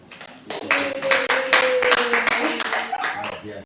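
Applause from an audience at a school event, a burst of clapping hands rising quickly and holding steady for a few seconds, with a voice speaking over it.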